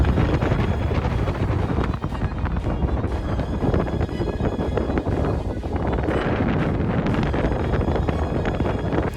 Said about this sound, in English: The wind's crazy, but we're back.